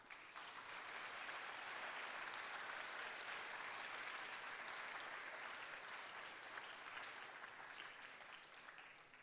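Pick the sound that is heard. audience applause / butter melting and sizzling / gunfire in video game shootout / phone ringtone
audience applause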